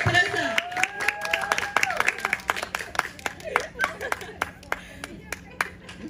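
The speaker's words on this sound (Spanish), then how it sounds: "aplausos para el baile sorpresa" Applause for a surprise dance at a quinceañera party, a crowd clapping in quick uneven bursts with voices and cheering mixed in at first, then the claps thinning out toward the end.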